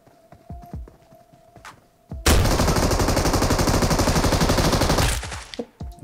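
Sustained automatic fire from a Thompson gun in PUBG Mobile Metro Royale rattles in one loud, rapid three-second burst, with quieter clicks and footsteps before and after.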